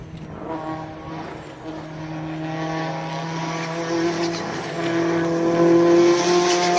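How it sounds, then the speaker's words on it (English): A race car at the Speed Classic hill climb in Cape Town drones with a steady, rising engine note that grows gradually louder as it builds revs, heard alone without talk. "Charles Folds with a Subaru B2 at the start line"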